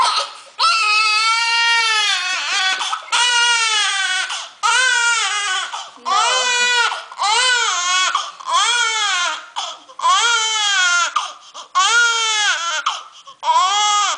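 An infant cries loudly after a bath, in repeated wailing bursts separated by short breaths, close to the listener and with no other sound between the cries.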